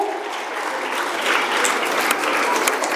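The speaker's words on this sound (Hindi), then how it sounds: "जोरदार तालियों के साथ मैम का स्वागत" Loud, continuous applause from a crowd at a girls' gurukul school's Children's Day celebration, welcoming the chief guest to the stage; steady, dense clapping that swells slightly midway.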